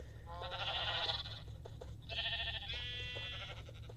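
Sheep in a Minecraft-style game bleat in three wavering cries, close and fairly loud over a low steady background hum, with no talk.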